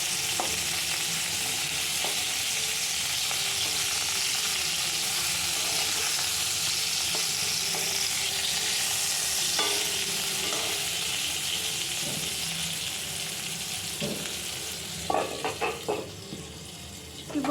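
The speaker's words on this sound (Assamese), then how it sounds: "আৰু অলপ 2-1 মিনিট পিছতে হৈ যাব বেঙেনা ফ্ৰাই" Eggplant slices fry in a pan with a steady, moderately loud sizzle throughout, and a few clinks and scrapes near the end, no talking.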